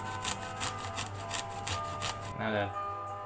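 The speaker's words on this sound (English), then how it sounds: "Now we're done grating the garlic" Garlic is grated in quick, regular rasping strokes, close and distinct, with a steady low hum beneath; the scraping stops near the end as a voice begins speaking.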